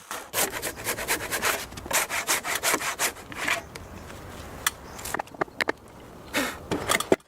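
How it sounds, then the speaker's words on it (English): A Japanese handsaw cuts notches into oak posts in a forest, giving a quick run of close, crisp rasping strokes. A pause follows, then scattered short strokes and a final brief burst. "I used my Japanese handsaw for the final touches on the notches, as it provides extremely clean cuts."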